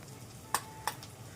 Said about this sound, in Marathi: टोमॅटो चांगला मऊ होईपर्यंत त्याला परतून घेते